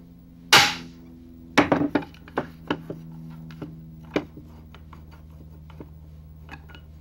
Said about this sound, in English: then install the second pop rivet.